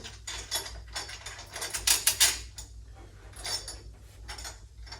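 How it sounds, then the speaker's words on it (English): Metal clamps being refitted into the groove of a filter hub on a Rival cart, giving a run of close, sharp metallic clicks and ratcheting rattles that cluster and peak midway, then ease off. "So now we can reinstall our clamps."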